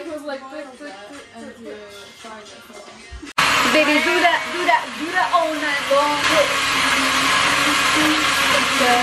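An electric mixer switches to turbo speed while Japanese cheesecake batter is being made, and its high, steady whir suddenly jumps to a loud, continuous roar. A person speaks over the quieter stretch beforehand.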